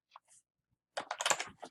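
Someone typing a folder name on a computer keyboard: a couple of faint isolated key taps, a pause, then a quick close burst of clicking keystrokes.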